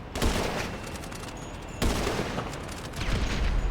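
GTA Online Snipers vs Ducks adversary-mode gunfire: dense, close volleys of rapid shots crackle almost continuously, with a sharp fresh burst partway through.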